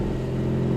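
A Citroen 2CV engine revs in snow during a first-gear start, a loud, steady, buzzing drone close by, holding evenly for under a second.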